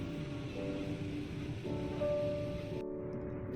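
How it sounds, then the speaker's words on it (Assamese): Heavy rain drumming steadily on a moving car during a drive home in monsoon weather, a dense continuous wash with faint tonal hum, cut off abruptly near the end. "ঘূৰি আহোঁতে বহুত ডাঙৰ এজাক বৰষুণো পালোঁ"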